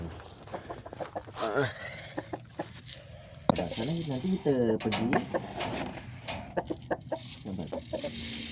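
Month-old Rhode Island Red chicks cluck and peep repeatedly while eating feed, close and fairly loud, with people talking over them throughout.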